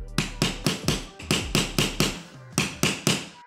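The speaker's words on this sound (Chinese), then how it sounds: "就用这个叫 nail punch 给它再打进去一点，这样的话它就形成一个凹陷的一个洞" Nail punch struck with a hammer to drive nails deeper into wall moulding during bedroom wall panelling, about a dozen sharp close taps in a steady rhythm with one brief pause, no talking.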